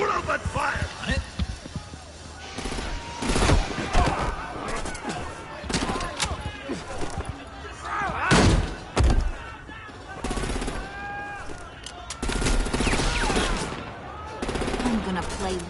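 Gunfire in the video game Batman: The Enemy Within, with repeated bursts and single loud shots in irregular clusters mixed with in-game voices and other action noise.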